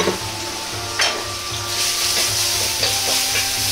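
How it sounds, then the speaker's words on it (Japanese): Ginger stir-fries in a little oil in a wok, giving a loud, continuous sizzle with brief scraping stirs. No one speaks. "生姜を炒めます。"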